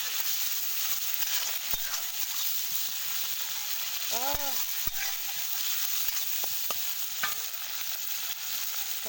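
Onions and tomato fry in a little oil in a pan, a steady close sizzle running throughout, broken by a few sharp clicks and taps from stirring.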